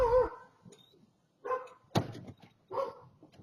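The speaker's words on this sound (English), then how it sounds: "Dogs in the neighborhood begin to bark." Dogs bark in a Milwaukee neighborhood after a street gun battle and car crash, picked up by a doorbell camera: a few separate barks with quiet gaps, plus one sharp thump.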